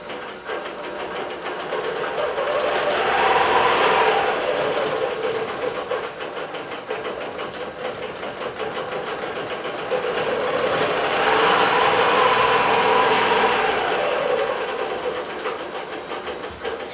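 A digital quilting machine stitches a quilt with pointed tree shapes at about half speed, a loud, steady mechanical hum and rapid needle chatter that swells and eases in two long waves.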